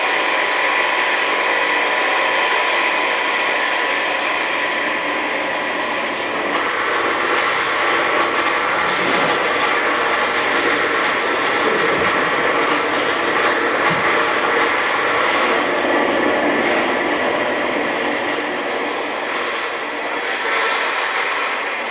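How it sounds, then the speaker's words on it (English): Fuel auger feeding slowly turning gears in a BlackLight Power demonstration rig, heard as a steady dense mechanical whir with a high whine, continuous and loud with no talk. "feeding into these gears that are, as you can see, rolling at very low rotational speed"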